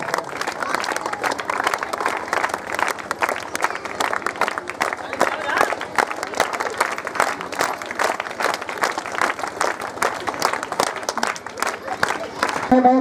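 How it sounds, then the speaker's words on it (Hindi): An audience at a Vijay Diwas 2021 gathering in Hunkarganj claps steadily to welcome a guest to the stage, dense continuous applause with crowd murmur and voices mixed in throughout. "जोरदार तालियों से उनका अभिनंदन स्वागत करते हुए उनको मंच तक पहुंचाने का काम करें"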